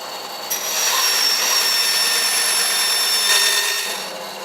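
A bandsaw cuts through a stack of National Geographic magazines, giving a steady, loud, close grinding whine with a high tonal ring that holds for about three seconds and then eases off, with no one talking.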